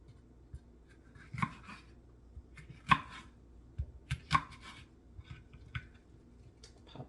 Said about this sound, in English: And just chop these up